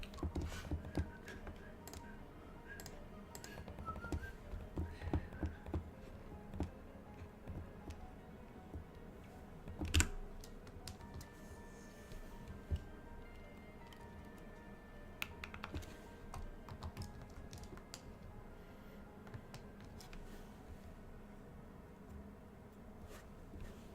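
Steady computer keyboard typing runs throughout, with dense rapid key clicks and occasional louder clacks at a moderate, close level and no talking.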